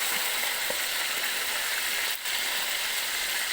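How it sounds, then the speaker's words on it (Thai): Fish sizzles and crackles in hot oil in a pan, a steady hiss that carries on throughout with a short dip partway through. "เราทำปลาทอดตรงเครื่องปลาตัวเบลเล่"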